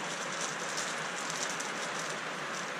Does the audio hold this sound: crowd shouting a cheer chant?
no